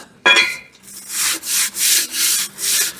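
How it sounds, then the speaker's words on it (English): Sandpaper rubbing in steady back-and-forth strokes on a sleeved Trans Am engine, about five rhythmic passes after a sharp initial scrape, close and fairly loud. "let's get this here sanding paper rigged up"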